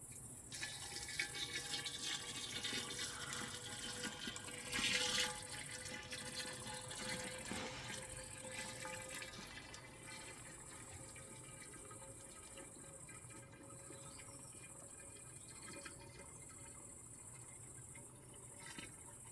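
Homemade honey wine poured into a large bottle, a long steady trickle of liquid with a slight surge around the middle before settling into a quieter, even flow, close by and without speech.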